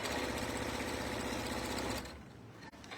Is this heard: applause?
no